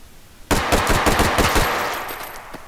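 A gun in the video game Hot Dogs, Horseshoes and Hand Grenades opens fire after a short quiet lead-in, letting off a rapid burst of sharp, loud shots in quick rhythm that tails into fading echo.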